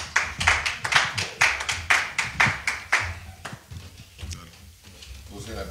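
A church congregation clapping to acclaim the Lord, a run of about ten loud, evenly spaced rhythmic claps that then thin out into scattered taps, with voices talking underneath as it fades.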